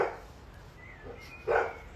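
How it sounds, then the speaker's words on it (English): A dog outdoors in nature gives two or three short, muffled barks at a distance, with a quiet gap between the first and the last, louder one. "Dog over there."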